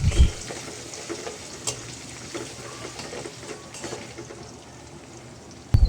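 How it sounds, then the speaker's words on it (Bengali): Chopped garlic and onion fry in oil for a vegetarian okra dish, a loud close sizzle with scattered spatula scrapes and clatters against the pan, sharper knocks at the start and end. "রসুন কুচি পেঁয়াজ কুচি দিয়ে তেলের সাথে এভাবে ভালো করে একটু ভেজে নেব"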